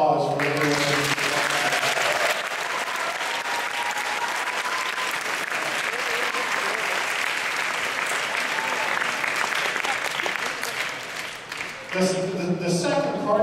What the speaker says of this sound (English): We need a round of applause for everyone.